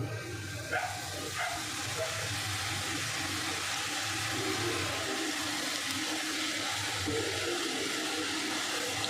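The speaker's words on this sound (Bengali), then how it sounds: "এবার আমি কটকটিগুলো ছাড়বো" Pieces of dough for crispy jhuri bhaja drop into very hot oil for deep frying, setting off a loud, constant hiss and roar of bubbling fat that stays steady and close throughout.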